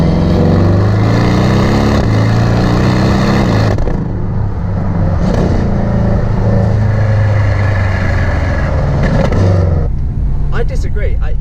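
A Porsche 718 Boxster S flat-four engine drones loud and close, rising and settling through revs, with someone talking over it throughout.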